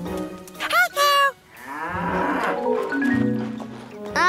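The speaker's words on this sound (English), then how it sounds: "Let's try to milk a cow as well." A cartoon cow moos loudly in two long, drawn-out calls close up, followed by a lower, rumbling bellow, with short bursts of animated voices around them.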